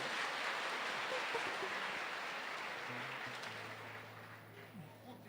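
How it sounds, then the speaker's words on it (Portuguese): An audience applauds after a prayer at a religious gathering, a steady broadband wash of clapping that carries through and fades slightly toward the end, with a low hum beneath. "Muito obrigado e uma salva de palmas."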